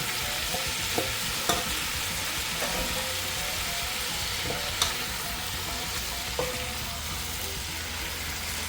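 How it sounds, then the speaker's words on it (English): Andouille sausage fries in a pot for jambalaya, a constant sizzle with scattered sharp scrapes and knocks of a spoon as it is stirred, close and moderately loud, with no talking. "Add your andouille sausage."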